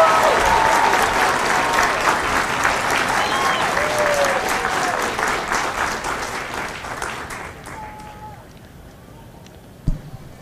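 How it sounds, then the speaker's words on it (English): Large crowd applauding loudly for the drill instructor company staff at a Marine Corps recruit graduation ceremony in San Diego, steady dense clapping that slowly thins and fades, ending with a single sharp thump. "please join me in a round of applause for the company staff of Company E"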